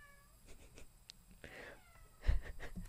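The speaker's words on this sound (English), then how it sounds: "My cat is just meowing." A house cat meows softly several times at low volume amid quiet background noise, with a slightly louder thump near the end.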